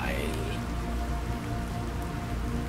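Rain in the video game Planet Crafter, a dense, steady patter filling the whole moment, loud and continuous.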